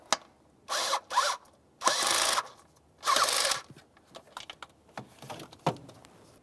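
A hand ratchet working on the knock sensor mounting bolts of a 2004-2015 Nissan Titan engine, several short rasping bursts of clicking followed by scattered lighter taps and clicks, close and alone.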